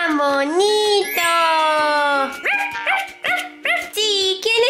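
Puppy barking, yipping and whimpering in the Avatar World game: a string of high, tonal yelps and whines, close and fairly loud, running throughout.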